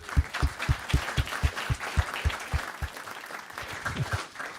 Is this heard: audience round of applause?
yes